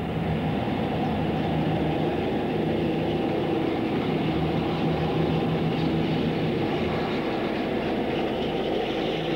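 A Western class diesel locomotive, Western Glory, rumbles steadily at Bedworth, a continuous heavy engine drone with faint rail clatter, fairly close and unbroken throughout.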